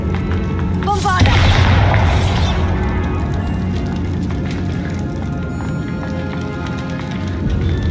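A Bombarda spell blast in Hogwarts Legacy erupts as a loud, bright burst early on, followed by a crackling rush that fades into a sustained low rumble of game ambience.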